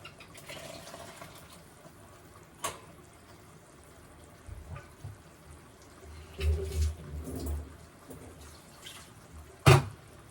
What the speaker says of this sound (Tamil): அதில் தண்ணி சேர்த்தாச்சு